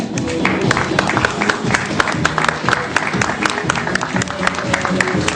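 A crowd at a wedding fair in Ressons-sur-Matz in October 2013 applauds the models with a steady, even patter of many hands that runs unbroken for several seconds.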